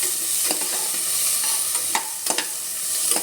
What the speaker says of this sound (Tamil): இதை போட்டு நல்லா வதக்குறேன்.